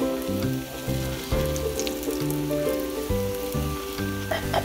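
Lentil fritters (dal bora) deep-frying in oil over medium-low gas, a steady, close bubbling sizzle under background music with sustained tones.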